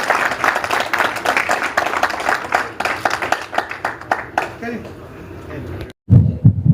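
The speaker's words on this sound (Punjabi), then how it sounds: "ਜ਼ੋਰਦਾਰ ਤਾੜੀ ਲਾ ਦਿਓ" A crowd at a municipal corporation election campaign gathering in Punjab bursts into loud, dense clapping for several seconds. The applause fades, cuts off briefly, then resumes with a louder, closer burst.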